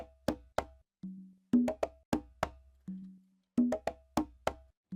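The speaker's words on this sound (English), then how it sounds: "You can hear the bongos are being played on mostly the right side." A bongo and conga loop auto-panned by ShaperBox 3 in a relaxing desert house track, crisp hand-drum slaps alternating with sustained low tuned tones in a steady repeating groove, dry and unaccompanied.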